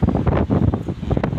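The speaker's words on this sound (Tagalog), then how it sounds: "Malakas ang hangin. Gumagalaw yung cellphone." Strong wind buffeting a cellphone microphone outdoors, loud low rumbling gusts that surge and dip in quick bursts, with no talking.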